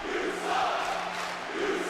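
Arena crowd noise from the WWE 2K18 wrestling video game during a Roman Reigns match at WrestleMania, a steady roaring wash of cheers and boos that swells midway and stays loud throughout, with no talk.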